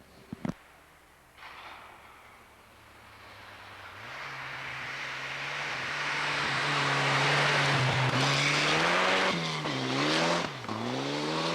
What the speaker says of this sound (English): And Dan Theo in the Volvo